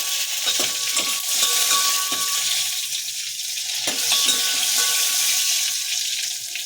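Curry leaves and garlic fry in a pan for bele saaru, a steady bright hiss of sizzling oil with occasional faint pops and light clicks throughout, fairly close and without speech.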